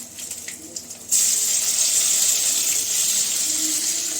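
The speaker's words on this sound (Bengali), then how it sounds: "ততক্ষণ হাতটা ধুয়ে নিই" A tap is turned on for washing hands, and water gushes into a sink in a steady, loud, hissing stream that starts abruptly after a brief quieter moment and runs on nearby.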